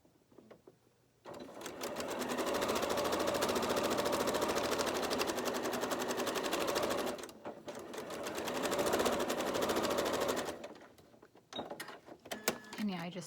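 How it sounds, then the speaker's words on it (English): A sewing machine stitches quilt pieces in two fast, loud rapid-fire bursts separated by a short pause, followed by quieter handling clicks and rustles up close. "I'm gonna start sewing past the seam allowance and end past the seam allowance"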